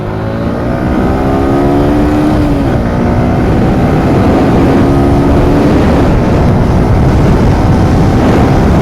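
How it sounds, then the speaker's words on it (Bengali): A Suzuki Gixxer SF FI ABS motorcycle pulls hard through first, second and third gear, its engine note loud and close, rising in pitch with each gear and dropping briefly at the shifts, with steady wind and road roar. "এটা হইতেছে জিক্সার এসএপের এক দুই এবং তিন গিয়ারের টান"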